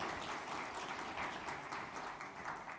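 Audience at an Estonia–Kenya business forum breaking into sustained applause, a dense, even wash of clapping heard from a distance at low volume.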